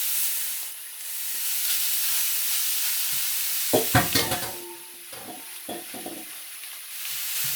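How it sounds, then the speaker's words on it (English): Meat and Maple sausage hit a hot pan for spaghetti sauce, a steady close sizzle with a burst of clattering stirring strokes midway, then softer scrapes as the frying hiss carries on, no voices. "Then we're going to add the rest of our meat and sausage"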